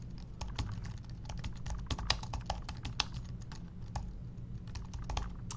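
Steady rapid clicking of typing on a computer keyboard while entering a search into a library catalog, close and continuous with irregular key clacks throughout, no talk.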